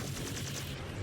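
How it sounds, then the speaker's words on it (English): Storm Crow mech weapons firing a salvo into an Atlas's center torso in Mechwarrior 5 Clans, a brief burst of rapid, loud, rhythmic shots in quick succession. "We're gonna shoot straight center torso, the most armored and structured part of the mech."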